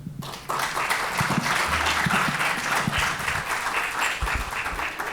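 An audience at a public administration conference bursts into steady applause for a speaker, many hands clapping together in a dense, even roar that starts abruptly and holds throughout, moderately loud in a hall.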